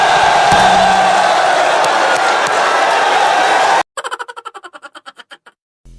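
A loud crowd at a FlipTop rap battle roars and shouts together, sustained for several seconds, then cuts off abruptly to a rhythmic sequence of short beats.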